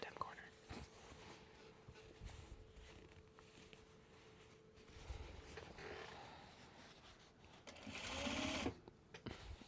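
A sewing machine chain piecing Japanese fabric for bags, its quiet running hum continuing through the stretch and swelling louder near the end, with soft talking underneath.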